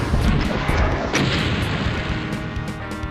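Rocket blasts in the shooter game Doom (The Plutonia Experiment) go off as a rapid run of heavy booms and crackling bursts, loud and close, with no speech.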